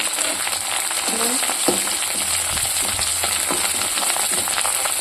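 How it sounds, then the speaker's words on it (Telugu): Green chillies frying in oil in a pan for a leafy-greens chutney, a constant dense sizzle with a few scrapes of a spoon against the pan, close and alone without talk. "ఇట్లా వేగిన తర్వాతకి మనము పచ్చిమిర్చి వేసేసుకున్నాం. మంచిగా వేగాలదంతా."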